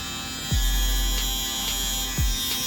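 An Andis Resurge electric shaver buzzes steadily nearby with a constant whine, and brief low thumps sound as it is handled.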